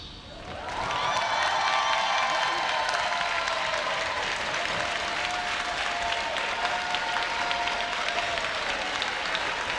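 New students at the Rutgers University-Newark convocation burst into loud, sustained applause and cheering from a large crowd. The ovation swells quickly and holds steady for several seconds, with no talking over it.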